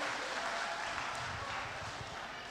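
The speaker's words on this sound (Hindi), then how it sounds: "जोरदार तालियां सर।" Faint applause from a group at an annual meeting in Goa, a steady patter of clapping that stays soft throughout.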